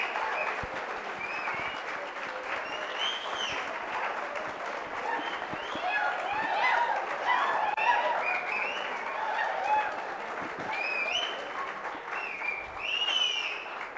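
An audience applauds a team lead being honoured at a project competition prize distribution, sustained clapping with crowd noise and overlapping voices talking throughout.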